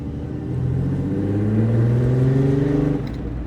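A supercharged 3800 engine with no intercooler in a 2,600-pound Pontiac Fiero with a 5-speed accelerates hard, its loud, rising growl climbing steadily for about three seconds before easing off abruptly.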